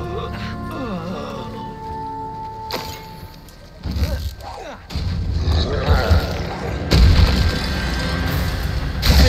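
Expulso explosion spell in the video game Hogwarts Legacy: heavy booming blasts and thuds building in loudness across the clip amid game music and talk.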